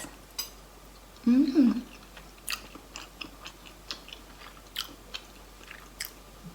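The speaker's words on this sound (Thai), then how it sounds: "มากินฮอทดอกก่อนเนาะค่ะ" A hot dog eaten at breakfast, with close moist chewing and soft bites that come in small irregular bursts, plus a brief voiced sound and light clinks of cutlery on a plate.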